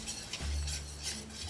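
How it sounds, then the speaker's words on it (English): Whisk stirring grated cheese into a thick sauce in a pot with the heat turned off, a soft steady scraping and swishing with light metallic clinks, close and fairly quiet. "I'm gonna whisk my cheese in."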